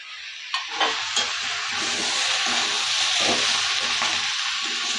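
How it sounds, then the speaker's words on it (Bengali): Vegetables and ground turmeric, chili, cumin and coriander frying for khichuri, a loud continuous hissing sizzle with occasional stirring knocks, heard alone. "এই মশলাগুলো দেওয়ার পর আরেকটু ভালো করে কষিয়ে নেব"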